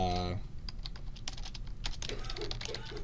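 Quick, uneven keystrokes on a computer keyboard as a folder name is typed, close and fairly quiet, starting just after a voice stops speaking.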